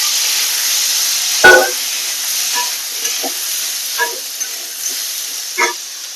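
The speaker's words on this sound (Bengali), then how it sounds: "মাছ ভাজা তেলের মধ্যে আমি সিদ্ধ করে রাখা কচুটা দিয়ে দেবো।" Parboiled taro pieces sizzling in oil left over from frying fish, a steady hiss with a sharp clatter as they go in, followed by scattered stirring scrapes and light spatters.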